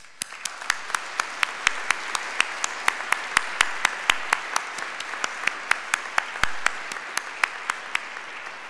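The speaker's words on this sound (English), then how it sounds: "Let us give a round of applause for all of our UMD military and veterans" At a Veterans Day memorial service, an audience claps for the university's military members and veterans: a sparse, fairly quiet patter of individual hand claps, distinct sharp strikes spaced in a loose rhythm for several seconds.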